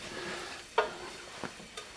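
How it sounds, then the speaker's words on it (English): Faint sizzling of garlic frying in hot oil, with a sharp crackle and a few soft stirring clicks. "Now you can hear it start to sizzle."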